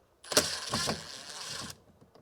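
A Phillips screw is backed out of a Ram truck front door panel, giving a brief ratcheting, gritty turning sound about a second and a half long, close and fairly quiet.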